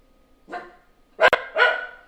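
A puppy gives three sharp barks nearby, the middle one loudest, with short silences between them.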